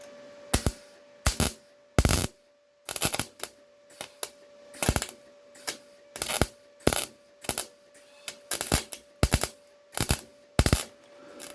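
A MIG welder fills holes in the steel sill of a Ford Escort MK1, crackling in short loud bursts separated by brief pauses, each burst a harsh buzzing sizzle, close and alone.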